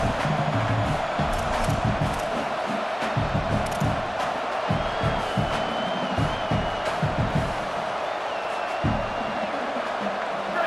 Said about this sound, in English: this crowd is not going to fade away, and they're rising up now